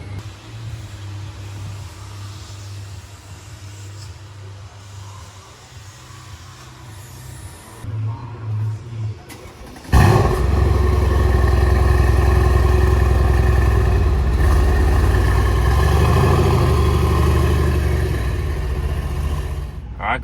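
A Mercedes-AMG C63 engine fires up around the halfway point, switching from a quiet idle-like hum to a loud, steady, deep rumble that holds close by to the end.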